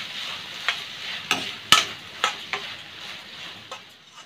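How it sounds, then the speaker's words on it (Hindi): Finely chopped onion fries in a pan while being stirred, with a soft continuous sizzle broken by several close clicks and knocks of the spoon against the pan. "और अब मैं इसमें डाल रही हूँ ये बारीक कटा हुआ प्याज, और अब हम इसको अच्छे से भून लेंगे।"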